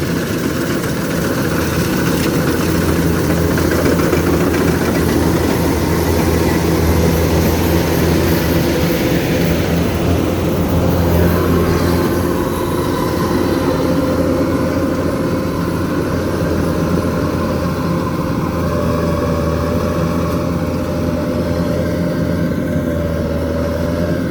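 A DC93 combine harvester fitted with a full harvesting setup runs in a field, its engine a loud, steady drone with a constant low hum that holds throughout, close by with no voices.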